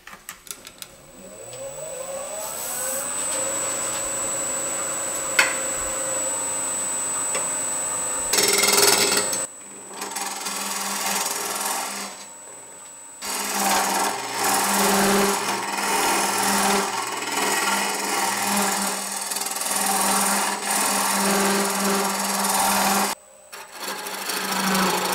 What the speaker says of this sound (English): Now I'm going to just take a straight tool, a straight hollowing tool, and just start hogging out some of the inside of this vessel.